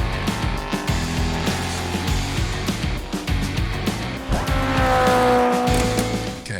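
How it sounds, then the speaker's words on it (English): American-made inline-six car engine revving hard, with loud, rising engine roar and squealing tire sounds layered over a busy, dense mix of mechanical noise, no talking. "we love that sound of American-made engine, John."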